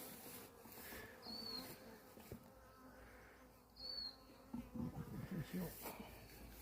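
A small swarm of Italian honey bees gives a quiet, close insect buzz that rises and fades as single bees pass, under soft background rustle with brief low sounds near the end.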